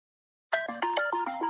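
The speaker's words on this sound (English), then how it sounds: "Oh, I thought my phone was muted." A phone ringtone starts abruptly after silence, a bright synthetic melody of short, evenly stepped tones, close and clear, with no talk over it.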